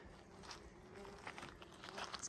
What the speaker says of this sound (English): These whole bushes are full of bees.